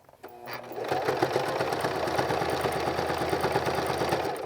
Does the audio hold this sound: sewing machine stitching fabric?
yes